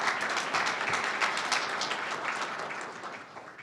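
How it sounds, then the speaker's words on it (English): A round of audience applause at a university humanities scholarship award ceremony: many hands clapping together, strongest at the start and gradually tapering off toward the end. "let's give her a round of applause"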